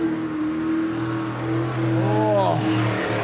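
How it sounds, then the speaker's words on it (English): An HRE engine in a jet sprint boat at the NZ Jetsprint Championship in Wanganui drones steadily, then its pitch sweeps up and back down as the boat races. A commentator talks over it. "So listen to this HRE engine hum"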